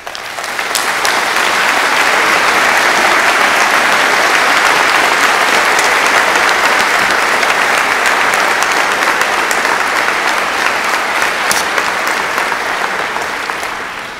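A large audience at a live Tennessee gubernatorial debate applauds the candidates in one loud, dense, sustained burst of clapping that runs for about fourteen seconds before starting to thin out.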